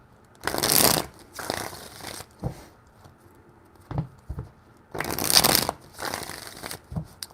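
Several bursts of close, crisp riffling as a tarot deck is shuffled by hand, with pauses and light taps between them, in a quiet room with no voices.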